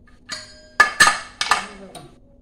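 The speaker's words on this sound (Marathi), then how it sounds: "आता आपण कुकर उघडून पाहूया की आपली भाजी कशी झाली आहे." A pressure cooker with cooked vegetables is opened in a kitchen, giving a few sharp metallic clanks and clinks of the lid and pot in quick succession, close and fairly loud.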